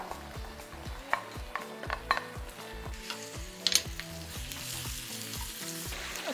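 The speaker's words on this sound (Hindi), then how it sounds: "इससे पहले कि ये डार्क ब्राउन हो इसके अंदर हम जल्दी से ये कीमा डाल देंगे।" Minced meat, a kilogram of keema, frying in a pan of browned onions for a spicy masala dish: a steady close sizzle with a few sharper crackles and stirring scrapes, over background music.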